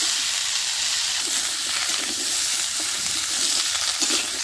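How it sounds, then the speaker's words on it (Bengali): Bottle gourd pieces drop into hot mustard oil left over from frying fish, giving a steady hissing sizzle with faint stirring scrapes and soft bubbling, close and even without voices. "মাছ ভাজা তেলের মধ্যে আমি লাউ দিয়ে দিব।"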